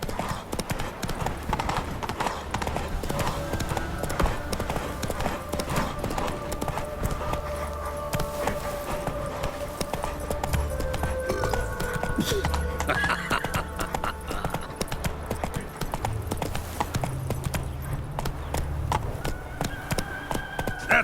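A horse's hooves clip-clop in a steady gallop in the Witcher 3 video game, loud and continuous, with a whinny and game music and voices beneath.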